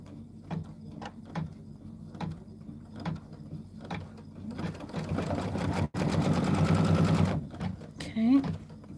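Sewing machine stitching down a beehive quilt block, starting with slow separate needle thumps that build into a fast continuous whirring run, then stopping, with someone speaking in between.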